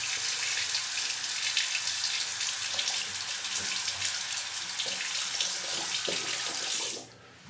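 Tap water runs steadily into a sink as a razor is rinsed during a shave, a close, even rushing that holds for about seven seconds before cutting off abruptly.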